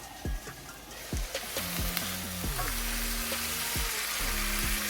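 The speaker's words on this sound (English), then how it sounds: "Flip the eggs, and we're good to turn the eggs off." Eggs fry in a hot pan with a steady, close sizzle, punctuated by sharp clinks and scrapes of a utensil against the pan during a fast meal-prep session.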